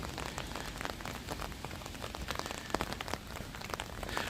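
Steady rain falls on a street at night in Futakotamagawa, Tokyo, a dense, even patter with sharper drops hitting nearby surfaces throughout.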